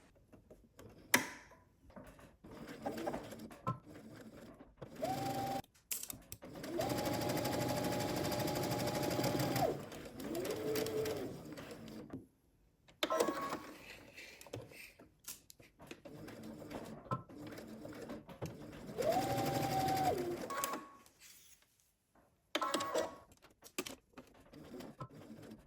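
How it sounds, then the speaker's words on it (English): Sewing machine stitching a dress seam with a 3/8-inch allowance, running in steady whirring bursts separated by short pauses, fairly quiet and close with no talk. "along the bottom, we're going to stitch to the dot using 3/8 of an inch seam allowance"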